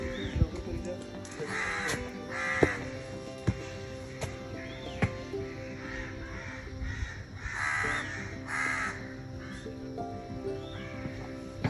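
Crows caw repeatedly in the morning outside the Highland restaurant, several harsh calls near and far over a steady outdoor background hum, with a person talking in between.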